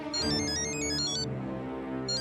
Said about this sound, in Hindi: सोडी का फोन है? उठाइए ना, उठाइए